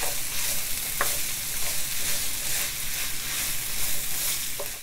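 Chopped onion frying over high heat in a pan for chicken tallarín saltado, a steady close sizzle with a couple of faint stirring scrapes.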